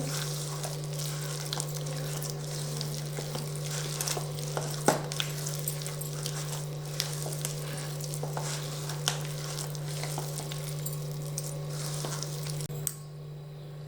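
Rice flour batter for punugulu, made from ration rice, is stirred by hand. It gives a continuous soft, wet crackling over a steady low hum, with no talking, and stops abruptly near the end.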